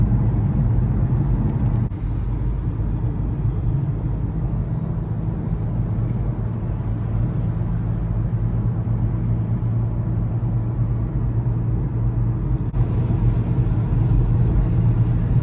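Car cruising at about the speed limit on a drive from Roanoke to Fort Worth: steady, loud low road rumble and engine drone filling the cabin, continuous without breaks.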